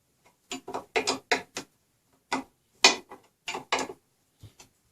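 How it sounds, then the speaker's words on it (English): A wrench loosens the bolt under the table of a WEN 10-inch drill press, giving a series of short, sharp metallic ratcheting clicks in irregular clusters, close and fairly loud against silence. "You just want to loosen this bolt."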